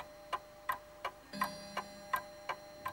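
A clock ticks steadily and close by, with evenly spaced sharp ticks about three per second and no voices, in a quiet room.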